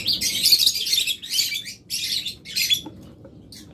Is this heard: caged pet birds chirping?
yes